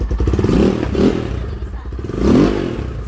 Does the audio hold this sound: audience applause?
no